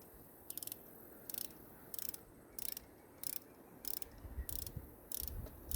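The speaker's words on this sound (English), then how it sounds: "Now I have my, as we call it, the torque wrench." A torque wrench set to 8 foot-pounds ratchets on the valve cover bolts of a Jeep 2.4 engine, giving short bursts of rapid clicks about every half second to second, close by and fairly quiet.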